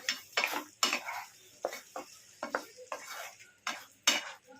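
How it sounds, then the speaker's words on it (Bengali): Potatoes and taro (mukhi kochu) are stirred in an oily pan, a spoon scraping and clinking against the metal in repeated uneven strokes, close and fairly quiet, with a light sizzle between them. "দিয়ে আমি আগে একটু নাড়াচাড়া করে নিচ্ছি।"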